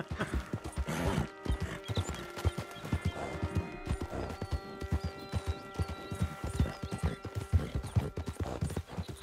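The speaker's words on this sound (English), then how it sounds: "All right, the next horse, Swiss Cheese." Steady clip-clop of horse hooves trotting at a brisk, even rhythm in Red Dead Redemption 2, close and clear, with faint mechanical background sounds and no talking.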